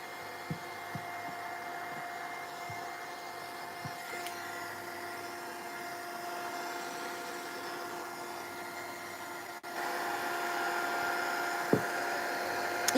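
Heat gun set in its stand blowing a steady, even whoosh to dry paint on a dark collage, with a constant hum, a few faint taps and a slight rise in intensity near the end.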